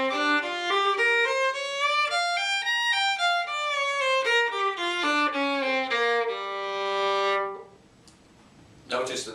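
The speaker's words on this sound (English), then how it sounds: "there's another blues scale which some people will refer to as the blues scale, and that is what I call the minor blues scale" A solo violin plays the minor blues scale, single bowed notes stepping up and then back down in a steady sequence, close and clear, ending on a long held note before a brief quiet tail.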